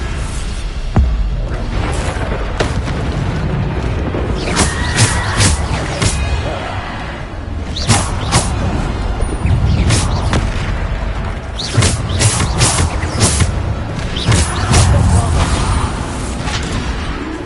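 Repeated Bombarda explosion spells in Hogwarts Legacy boom over continuous battle noise, with sharp blasts landing every second or two across a dense, loud fight.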